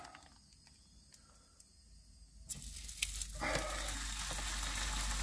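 Sirloin steak frying in a pan inside a camper van, a quiet hiss that swells into a louder, steady sizzle after a few seconds, with no talking.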